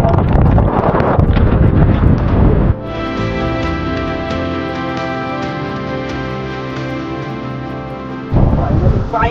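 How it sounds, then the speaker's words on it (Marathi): Strong wind buffets the microphone on a rainy monsoon trek across a plateau, a loud continuous roar with gusts, with people talking briefly at the start and end. "एवढा वारा आहे."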